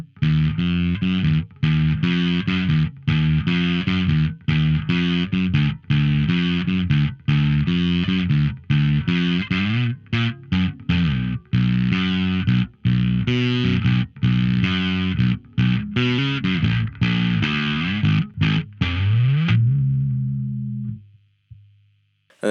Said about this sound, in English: it's just my plain old crunch, which is a B3K on the amp